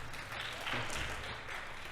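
A conference audience breaks into applause, a dense, steady wash of clapping from many hands that fills the whole moment, with no voice rising above it.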